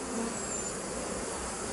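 Bees buzz inside a small nucleus hive, a dense steady hum that fills the whole stretch evenly and close, with no pauses and no voices.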